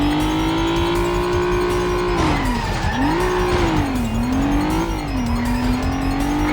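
A car in the PS2 stunt-driving game Stuntman roars loudly and steadily, its engine pitch dipping and climbing again as it revs and accelerates away, with no voices.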